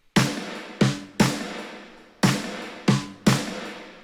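Six loud, sharp percussive hits of layered snares and percussion for a folk-pop groove: bright noisy snare crack over low drum thump, irregularly spaced and ringing out briefly between strikes.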